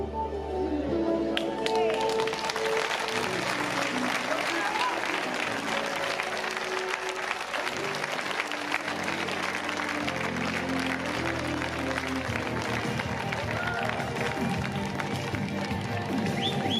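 Outdoor audience applause at a town festival proclamation and award ceremony in Jaraíz de la Vera, a long, sustained crowd clapping with sharp individual claps, background voices and music-like tones running underneath.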